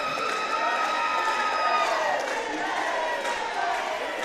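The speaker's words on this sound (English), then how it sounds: "asking the crowd to give one more round of a hand" A large crowd cheers and applauds at a high school basketball championship between Lawton High and Tulsa Memorial, a sustained roar filling the gym at steady loudness, with whistle-like tones over the top.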